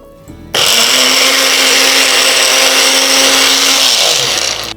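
Kitchen mixer grinder starts abruptly and runs at full speed with a loud, harsh whirring roar, blending ingredients into a fine paste for a milk-based drink before the motor slows at the end.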